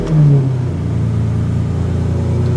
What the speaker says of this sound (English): So the start procedure, key in, clutch in, turn to start, hit the button once on the fob.